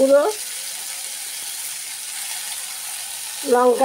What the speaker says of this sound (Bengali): গুঁড়ো, পরিমাণ মতো, নুন পরিমাণ মতো দিয়ে আমি ভাজা ভাজা করে ঢেকে দেব